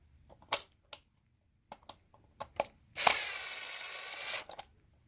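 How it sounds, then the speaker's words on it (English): A screw gun drives a screw into the top hole of an electrical junction box while an outlet is swapped for a GFCI, a sustained whir of about a second and a half after several sharp clicks and taps. "take your screw gun, screw it into the top hole of the junction box"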